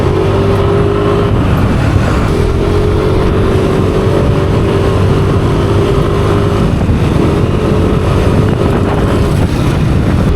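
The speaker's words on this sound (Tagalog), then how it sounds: "Nakakamiss din yung tunog ng stock muffler" A Yamaha Aerox scooter engine with its stock muffler runs close and loud as a continuous, rough motor drone, with slight pitch rises as it revs, under steady road or wind noise.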